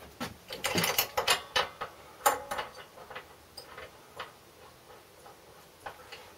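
A new spark plug is fitted into a cheap lawn mower, producing a run of quick metallic ratcheting clicks that starts dense and loud, then thins into slower, sparser clicks.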